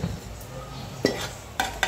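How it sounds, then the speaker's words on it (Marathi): Chili powder, turmeric and spices being stirred into mutton in a hot pan, giving a steady low sizzle broken by a few sharp spoon scrapes and clacks against the metal. "आणि छानपैकी पुन्हा एकदा परतून घ्यायचं आहे."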